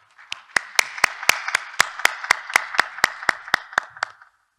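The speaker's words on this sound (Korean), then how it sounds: "큰 박수로 맞으시기 바랍니다" Scattered applause from a small audience at a university association general meeting, a dozen or so sharp claps in a loose rhythm that quickly fade out, heard alone in a quiet room.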